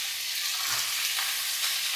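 Brinjal pieces coated with ragi flour and salt sizzle steadily in a frying pan for a raw tomato and brinjal curry, a loud, even hiss with no break and no talking.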